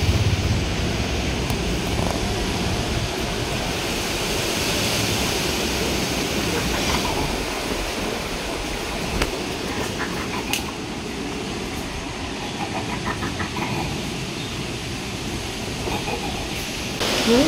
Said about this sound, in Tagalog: Gumurob ang hangin.